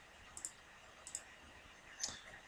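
Computer mouse clicks sound close and crisp in a quiet room: two quick double clicks, then a single sharper click, with faint background hum between them.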